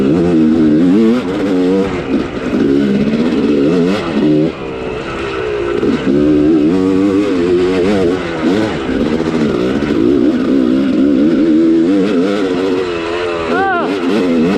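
A motorcycle engine revs hard and loud throughout, its pitch climbing and falling with the throttle, while someone talks excitedly over it.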